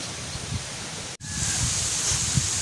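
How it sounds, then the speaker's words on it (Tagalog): Wind buffets the microphone with a constant rushing roar and low rumbling gusts, briefly cutting out once before resuming. "Lakas ng hangin guys Malakas yung hangin."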